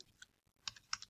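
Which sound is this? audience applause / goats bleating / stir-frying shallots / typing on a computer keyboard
typing on a computer keyboard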